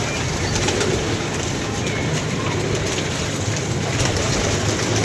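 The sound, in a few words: pigeons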